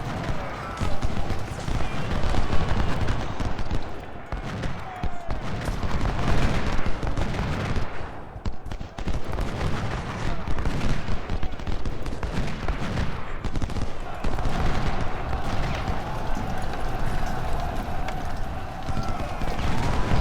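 Gunfire in the Civil War strategy game Ultimate General: Civil War, a dense, continuous crackle of musket volleys and heavier bangs that runs loud and steady throughout.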